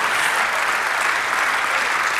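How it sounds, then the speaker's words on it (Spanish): Applause from a church congregation during a Spanish-language worship service, a steady dense wash of many hands clapping, loud and close, holding evenly for a couple of seconds. "Denle un aplauso al Señor"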